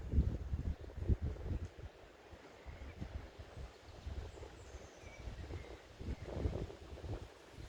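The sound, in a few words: wind blowing over a wheat field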